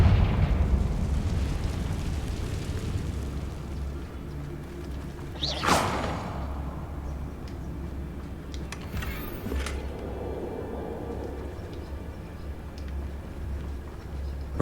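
A Confringo blasting spell in a Harry Potter video game erupts in one sharp, booming burst over a low rumbling backdrop, followed by a fainter whooshing crackle a few seconds later.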